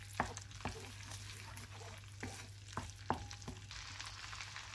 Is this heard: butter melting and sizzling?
yes